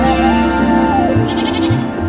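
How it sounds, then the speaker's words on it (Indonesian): Goats in a village bleat loudly and close by, with a long wavering cry followed by several shorter repeated bleats. "Kambing-kambing situ sangat sopan ya."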